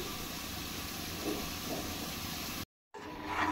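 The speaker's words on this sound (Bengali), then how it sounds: "এবার গ্যাসের ফ্লেম অন করে দুধের কড়াইটা আমি গ্যাসে বসিয়ে দিচ্ছি।" Steady broadband hiss from a gas stove flame burning under a pan of milk in a kitchen, continuous and close, with a brief dropout near the end, no talking.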